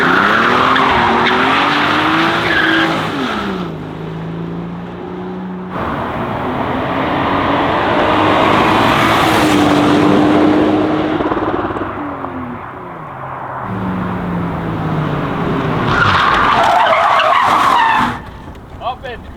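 A JDM turbo car drifting, with long loud tire squeals rising and falling over a roaring engine, heard from inside the car while people talk and react.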